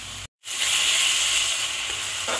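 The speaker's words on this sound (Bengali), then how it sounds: "ওই জন্য ভালো করে কষিয়ে নিতে হবে" Spice masala sautéing in oil for egg curry gives a loud, steady sizzle and hiss, briefly cut off near the start and then continuing without pause, no voices.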